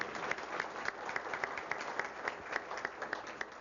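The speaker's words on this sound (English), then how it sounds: "let's have a great round of applause for Dennis and the" An audience gives a round of applause to panelists at a public forum on transportation needs and funding, steady even clapping from a moderate-sized crowd, somewhat distant and continuous throughout.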